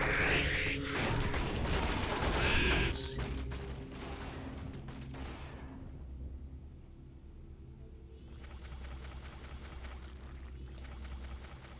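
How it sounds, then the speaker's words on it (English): An explosion in the Warcraft 3 strategy game among spider egg sacs: a loud, crunching, rumbling burst lasts about three seconds, then tapers into quieter mechanical creaks and ongoing game ambience. "It's the most disgusting explosion ever."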